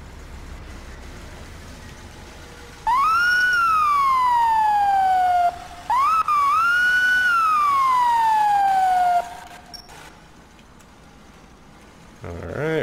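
An ambulance siren wails in the emergency-response game EmergeNYC, two loud, close, rising and slowly falling cycles separated by a brief break, then cutting off into quiet background hum.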